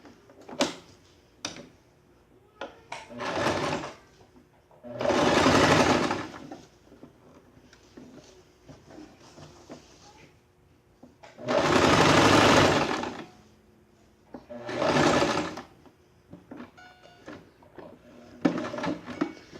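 A sewing machine stitches the shoulder seam of a draped jacket in several short bursts of close, rapid whirring, with fabric handling, small clicks and taps in the quieter gaps.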